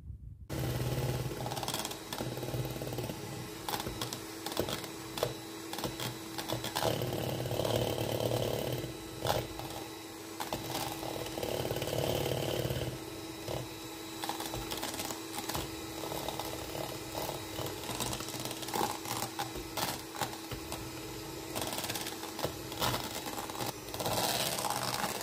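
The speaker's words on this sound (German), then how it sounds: "jetzt schlage ich das steif und gebe nach und nach dann den Zucker dazu" Electric mixer whipping egg whites stiff while sugar is added bit by bit for a cake, a continuous close whirring drone with small rattles and shifts in pitch as the beaters move through the bowl, with no talking.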